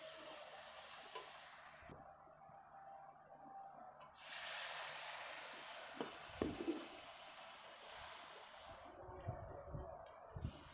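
Water splashes into a pan of spice masala that has been frying, giving a sudden loud hiss and sizzle that settles into steady bubbling and occasional stirring scrapes, close up with no talk.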